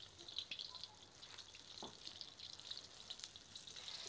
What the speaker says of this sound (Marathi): पाच एक मिनटं आपण मस्त मंद याच्यावर खरपूस होईपर्यंत तळून घेऊया.